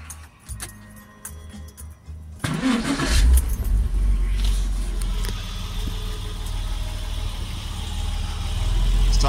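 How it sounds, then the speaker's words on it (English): A 1999 Porsche Boxster 986 engine, freshly serviced with an oil and filter change, cranks and starts after a jingle of keys, then settles into a steady, smooth, fairly loud idle heard up close. "Right, so we'll start the engine up."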